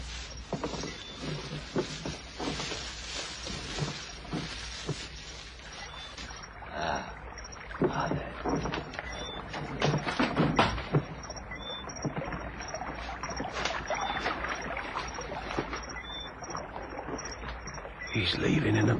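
A man rows a boat away across open water, oars dipping and splashing in an irregular rhythm under steady wind and water noise, with some voices audible.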